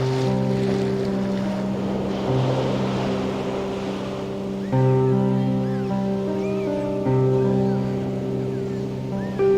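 A ship at sea in a storm with waves: a low steady rumble of wind and surf, with sustained tonal drones layered over the top and the level holding constant throughout.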